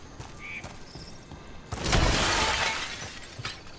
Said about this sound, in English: I smashed all the glass.